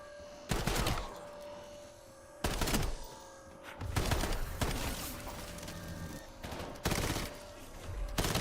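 A light machine gun fires in Call of Duty: Black Ops zombies mode on Ashes of the Damned, in loud repeated bursts of rapid shots separated by brief gaps, with a steady in-game tone underneath.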